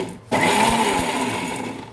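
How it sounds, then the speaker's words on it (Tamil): A kitchen mixer grinder whirs loudly and steadily as it blends onion, tomato and pepper with a splash of water into masala for homemade fish curry, starting abruptly after a brief quieter moment. "கொஞ்சம் ஒரு ஸ்பூன் தண்ணி விட்டு இன்னும் நல்லா மிக்ஸியில் அரைச்சிக்கணும்"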